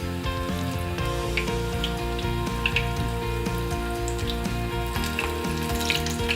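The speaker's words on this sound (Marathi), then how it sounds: "आता तेल तापलेलं आहे त्याच्यामध्ये आपण मिक्स केलेलं भजीचं पीठ घालूया" Bhaji batter dropped into hot oil sizzles steadily throughout, a continuous fine crackle under a constant tonal hum, with no speech.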